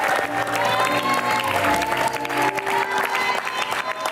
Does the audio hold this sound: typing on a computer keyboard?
no